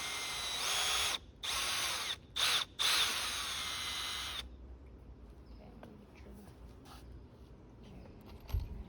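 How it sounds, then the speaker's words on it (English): A power drill bores a hole in a wooden stick for a Halloween scarecrow frame, loud high whirring in several short bursts with brief stops, then quieter handling clatter and shuffling afterward. "Then I'm going to drill a hole and screw it in so that they're connected."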